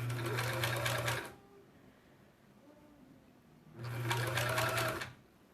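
A home sewing machine stitches puppy and kitty ornaments in two bursts of fast, whirring mechanical stitching, each over a second long, with a quiet pause between them.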